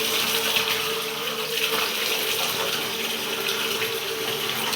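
Cold holy water pours steadily from a spring at a hillside monastery in Georgia, a continuous close gushing splash like a running tap, loud and even with no talking over it.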